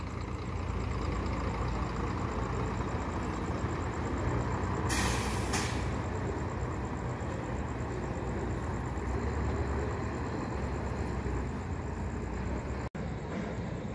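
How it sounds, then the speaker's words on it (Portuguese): A Gontijo intercity coach, a Comil Campione Invictus, pulls into the Governador Valadares bus station at night. Its engine rumbles steadily while a sharp hiss of air brakes bursts out partway through, with station noise around it. "Chegando aqui mais um carro da Gontijo"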